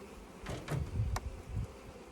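Honey bees hum around an open hive during frame inspection, a low wavering buzz rising and falling over about two seconds, close and moderately quiet, with a brief sharp knock.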